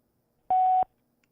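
A single voicemail beep on a phone call: one clean, steady electronic tone lasting about a third of a second, loud and isolated against near silence.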